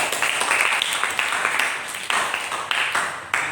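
Short burst of audience applause at an Indonesian talk event, steady dense clapping with a few sharper claps, moderately loud and fairly close, fading slightly at the end.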